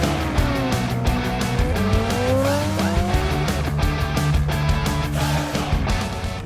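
A modded motorbike in Cyberpunk 2077 rides along with a loud, steady engine roar that rises and falls in pitch as it speeds and turns, along with some tire noise.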